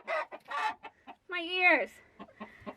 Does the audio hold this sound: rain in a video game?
no